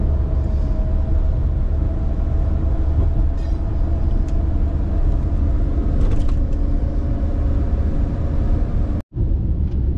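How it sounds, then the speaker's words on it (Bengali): A train passing near a road on a car trip from Shantiniketan to Kolkata: a loud, steady rumble of wheels and carriages heard up close, continuous for the whole stretch and cut off sharply near the end. "ট্রেন যাচ্ছে পালসিটের দিকে।"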